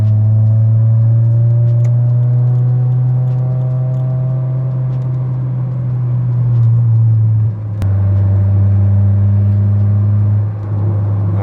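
Steady low engine drone and road rumble from inside a moving car in Malaysia, with a sustained hum and slight shifts in pitch as it cruises.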